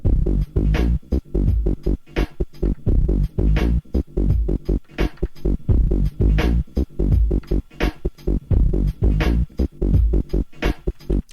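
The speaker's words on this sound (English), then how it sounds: "we have this drum loop with this really dumb bass line that sounds like this" A repeating drum loop with steady kicks and snares over a simple, plodding bass line, loud and continuous with no voices.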